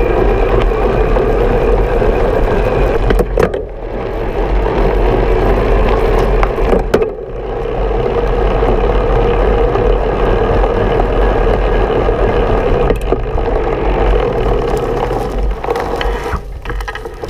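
Bosch CX, Brose S or Shimano E8000 e-MTB mid-drive motor running steadily, a continuous close hum with a couple of brief dips, no talking.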